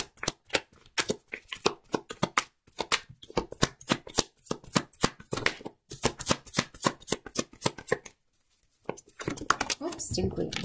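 Tarot cards are shuffled close up in a fast, rhythmic run of crisp riffling slaps, pausing briefly near the end before rustling resumes, with a voice speaking at times.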